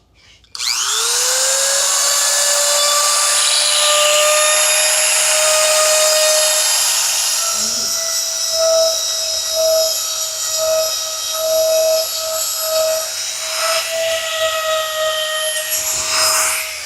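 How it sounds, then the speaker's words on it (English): A Dremel rotary tool fitted with a triangular stone smooths the edge of a stingray-skin holster, a sharp high whine that spins up quickly, holds steady while grinding with slight pitch dips under load, then winds down. "I'm going to use a Dremel tool with a stone"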